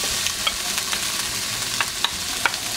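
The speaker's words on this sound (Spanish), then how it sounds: "No le he puesto aceite porque el mismo tocino suelta su grasita." Bacon fries with garlic paste in a pan without oil, a dense close sizzle broken by several sharp clicks of a utensil stirring and scraping the pan.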